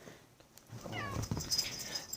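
A cat meows briefly, close by, over low background noise.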